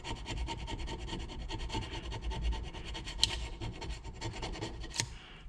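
A razor blade scrapes RTV sealant off a KFX400 engine case in short, gentle rasping strokes, a close, dry scratching texture with a couple of sharper clicks, and no talking.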